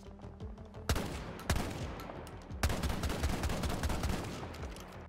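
An NVK S22 automatic shotgun firing in Battlefield 2042, with sharp loud blasts spaced apart and then a rapid string of shots amid a crackling battlefield din.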